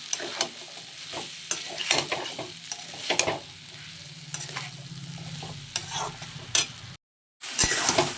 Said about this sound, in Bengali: এবার আমি আদা, রসুন, পেঁয়াজ, জিরে, ধনে সব মশলা দিয়ে আমি আবার ইঁচড়গুলো কষিয়ে নেব।